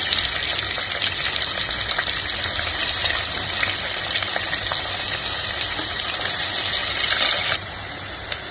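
Onions hit a hot pan of spices (bay leaf, cloves, cinnamon) and set off a loud, dense, continuous sizzle, an unbroken hiss that drops abruptly near the end.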